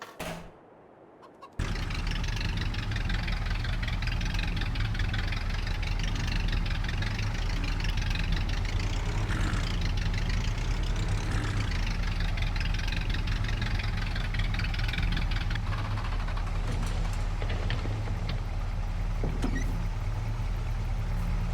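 Ursus tractor engine starting and settling into a steady idle, a low throbbing mechanical rumble that runs loud and close after a brief quiet start, with faint clanks over it.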